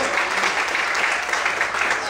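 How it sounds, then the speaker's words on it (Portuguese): Church congregation applauding during a worship service, a steady, loud wash of many hands clapping throughout with no break. "Quantos podem aplaudir ao Senhor?"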